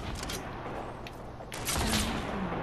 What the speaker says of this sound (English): He just tried shooting me.